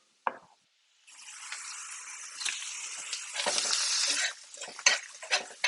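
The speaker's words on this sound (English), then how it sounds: "Give it a little stir" Mushrooms fry in a tablespoon of butter in a pan while being stirred, giving a soft steady sizzle with scraping and clacking stir strokes. A brief tap comes first, then quiet before the frying noise starts.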